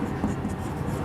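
Chalk or marker writing on a classroom board during a Hindi biology lesson, a steady soft scratching for about a second, close and alone without talk.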